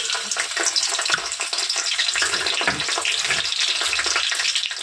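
Chopped garlic frying in a pan for Bengali-style mixed fried rice, a loud, constant crackling sizzle that fills the whole stretch without any talk.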